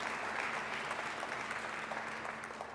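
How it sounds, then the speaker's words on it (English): Steady applause from a crowd at a remarks and media event with Ontario's premier, a dense continuous patter of clapping that tapers slightly toward the end. "I knew that would get some applause."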